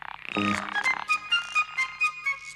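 A frog croaks in a cartoon pond scene: a rising vocal onset, then a rapid series of six or so pulsed, throaty croaks at a steady rhythm, close and fairly loud, with no talking over it.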